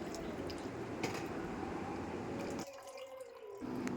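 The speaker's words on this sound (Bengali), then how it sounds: "গরম জলটা এই ডালের মধ্যে অ্যাড করে দিচ্ছি" Hot water from a kettle is poured into dal, making a steady close liquid splash and trickle that briefly drops away before resuming.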